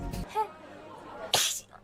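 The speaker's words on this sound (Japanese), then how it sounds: "本当にくしゃみなの？" A single short sneeze, close and fairly quiet, from a Hololive streamer, with faint voice sounds around it and a sharp spray-like burst near the end.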